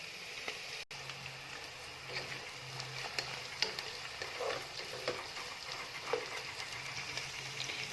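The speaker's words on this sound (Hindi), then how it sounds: "प्याज यहाँ पे भुन रही है।" Onions frying with ginger and garlic in a pan, a steady, fairly quiet sizzle with faint scattered crackles and occasional soft stirring clinks, no voices.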